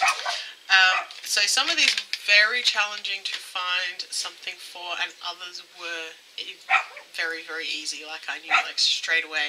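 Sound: dog barking in the background

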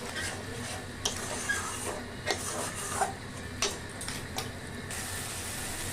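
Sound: frying spice masala with tomato for mutton curry

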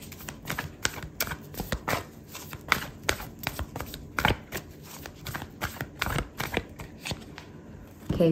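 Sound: shuffling tarot and oracle cards

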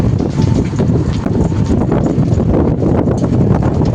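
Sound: strong wind blowing

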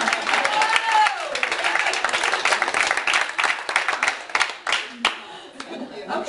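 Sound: audience clapping

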